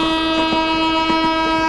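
A train in a movie scene, heard as a loud, steady tonal horn or whistle held over a rumbling, rhythmic rail clatter throughout.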